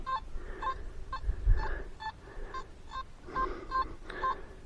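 Faint, scratchy electronic beeps from a metal detector pulse in an irregular rhythm over low rumbling background noise, a weak signal at a low-water lakeshore.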